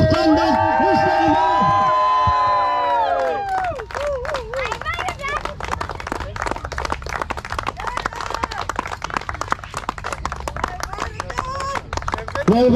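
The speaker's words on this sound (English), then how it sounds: "Round of applause for all our boys." At a cricket tournament trophy presentation, a crowd cheers with loud whoops and shouting, then breaks into brisk, sustained clapping that carries on with scattered voices through the rest.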